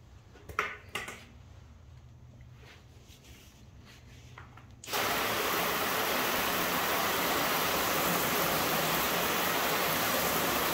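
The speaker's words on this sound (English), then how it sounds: "we're going to want to wash the panel first" Water sprays steadily onto a car body panel coated with ceramic and graphene spray coatings, a loud continuous hiss that starts abruptly partway through after a few faint handling knocks.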